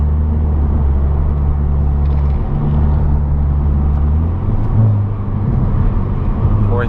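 Kia car engine with traction control off, a loud steady low drone that holds, dips briefly and then climbs again as it pulls through the gears, heard from close by with no talk over it.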